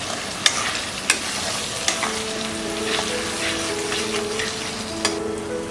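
Spices frying on a low flame, a steady close sizzle with a few crisp spatula taps and stirring strokes, plus faint tonal hums in the background.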